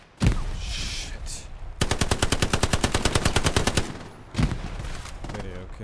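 Steady machine gun fire in Hell Let Loose on wintry Elsenborn Ridge, a long rhythmic burst of evenly spaced shots lasting about two seconds, with a louder single shot before it and another after, and a voice speaking now and then.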